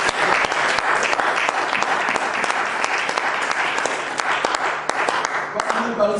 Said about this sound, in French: Est-ce qu'on peut acclamer bien fort le Seigneur?